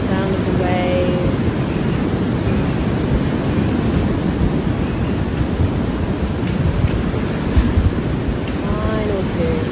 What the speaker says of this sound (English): Enjoy the lovely sound of the waves.